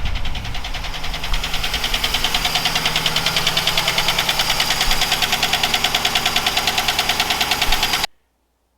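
2011 GMC 1500 pickup engine idling with a lifter fault, a steady rapid ticking knock repeating evenly over the engine hum, close and loud, then cutting off abruptly.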